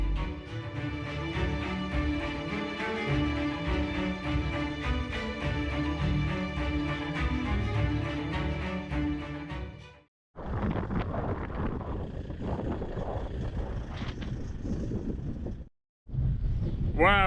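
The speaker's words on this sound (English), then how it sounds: "it's super windy today" Gusty wind roars and buffets the microphone on a road by a park in Oregon, a loud, rough rushing that drops out briefly before returning.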